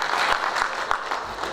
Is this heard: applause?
yes